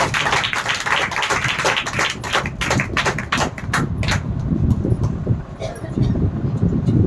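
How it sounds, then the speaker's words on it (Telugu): A church audience claps loudly together during a Telugu Christian sermon service, dense rapid hand claps filling the space at close range, merging into a steady roar of applause with murmuring voices beneath. "అందరూ ఒకసారి గట్టిగా చప్పట్లు కొడుతూ"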